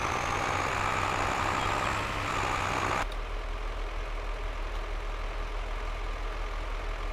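A tractor in Farming Simulator 22 runs with a steady engine drone for about three seconds, then cuts to a quieter, low idling hum that continues to the end.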